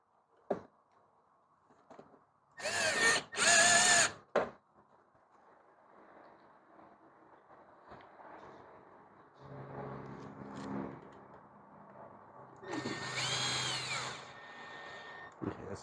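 A power drill runs in short bursts while tightening bolts on a free used lawn mower, with two loud closely spaced bursts early, a longer whirring run later and quieter clanks and handling noises in between.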